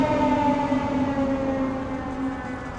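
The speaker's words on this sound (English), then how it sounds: "the ambulance is going to come by right as we do this" Ambulance siren passing by outdoors at an evening garden art event, a loud, sustained wailing tone that holds steady and slowly fades as it moves away, with no talk over it.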